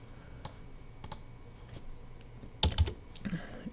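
Typing on a computer keyboard in a quiet room, with sparse, faint key clicks that gather into a short, louder cluster of keystrokes near the end.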